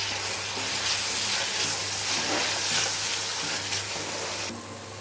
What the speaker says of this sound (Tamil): இங்கே பாருங்கள், தக்காளி நல்லா வதங்கிடுச்சு